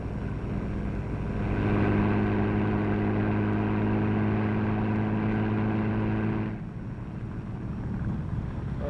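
A steady low boat motor drone with a harmonic hum runs for several seconds, then cuts off, leaving wind and background noise.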